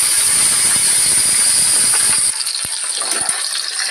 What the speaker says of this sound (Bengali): গরম তেলের মধ্যে আমি দিয়ে দিলাম। প্রথমে আমি মাছগুলোকে ভেজে নেব।